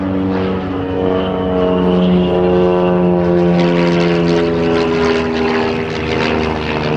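An aerobatic propeller aircraft from the Titans display team flies manoeuvres at the Abingdon 2023 airshow, its loud, steady droning tone holding throughout without any voices.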